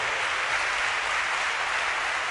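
A church congregation applauding during a worship seminar service, a dense, even wash of many hands clapping together without a break.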